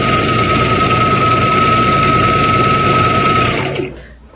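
A sewing machine stitches thick abaya fabric in a steady, fast, loud whir with a bright whine running throughout, then winds down and stops near the end.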